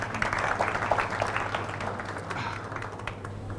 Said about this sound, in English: Again, a one round of applause for all the panelists.